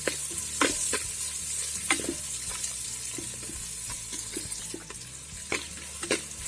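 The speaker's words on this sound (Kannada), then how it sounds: "ಈರುಳ್ಳಿ ಎಲ್ಲ ಫ್ರೈ ಆಯಿತು." Onions fry in a pan for the Tulu Nadu clam dish marwai pundi, with a steady close sizzle and repeated sharp clinks and scrapes of a spoon stirring throughout. No one speaks.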